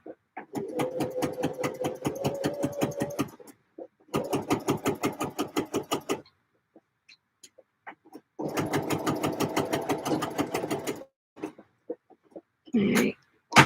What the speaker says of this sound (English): let me baste the pocket bags into place once they've been pressed